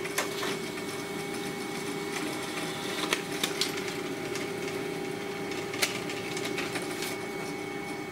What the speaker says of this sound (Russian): Принтер начал печатать.